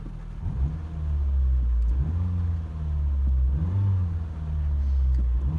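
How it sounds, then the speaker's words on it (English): A Nissan K11 Micra's small engine gets a couple of gentle revs, each a short, moderate rise in pitch over a steady low idle, heard close. "I just like to give it just a couple of gentle revs"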